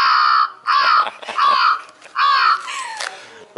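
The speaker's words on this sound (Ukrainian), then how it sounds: "American crow." An American crow caws in a series of harsh, close calls, four loud caws with short pauses between them, heard outdoors in an arboretum.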